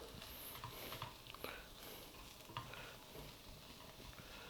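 Corn beef is stirred in a pot, a low bubbling sizzle with scattered scrapes and taps of a spoon against the sides, quiet and near, with no voices.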